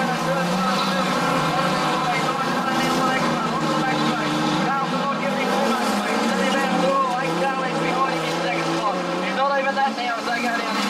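Street stock race cars roar around Gunnedah Speedway in a 2015 NSW title feature, several engines blending into one loud, continuous drone that rises and falls as the pack circles the track.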